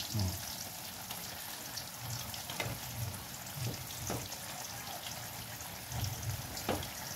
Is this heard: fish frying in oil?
yes